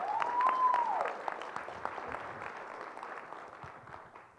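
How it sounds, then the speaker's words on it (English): Audience applause in a conference hall during a keynote talk, with a brief whoop at the start, then steady clapping that slowly fades over several seconds. "Round of applause for Shelly"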